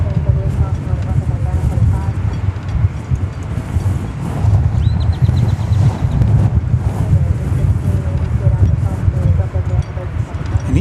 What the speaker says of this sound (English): I need somebody to turn the wind off.